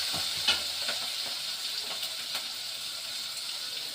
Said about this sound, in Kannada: ಚೆನ್ನಾಗಿ ಮಿಕ್ಸ್ ಮಾಡ್ಕೊಳ್ಳಿ. ಚೆನ್ನಾಗಿ ಫ್ರೈ ಆಗಲಿ.